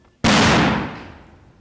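A single sudden, sharp gunshot cracks out during an NSG commando bus-rescue training exercise, loud and close, its echo fading over about a second.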